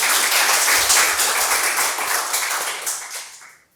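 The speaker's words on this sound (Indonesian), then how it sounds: "Boleh berikan aplaus." A hall audience applauds at a small-business (UMKM) talk event, a dense, loud wash of many hands clapping that holds steady and then fades away toward the end.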